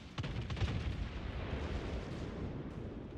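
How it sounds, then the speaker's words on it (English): A video game destroyer, Z-46, fires its naval guns at the battleship Kurfürst in a sea battle. Booming shots and heavy rumbling detonations run together for several seconds as a continuous loud barrage, with no voices. "so I start opening fire on the Kurfürst as well to help the Bismarck"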